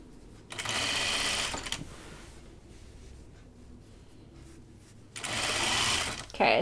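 A sewing machine stitching a Charlie Caftan runs in two steady whirring bursts, one near the start and one near the end, with a quieter pause between them.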